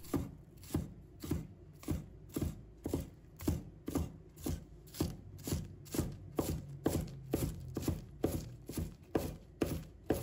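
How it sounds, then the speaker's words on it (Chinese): A knife chops a bunch of scallions into small pieces on a cutting board, steady, evenly spaced close taps repeating for about ten seconds, quiet and alone. "再准备1把小葱，把它切成葱花。"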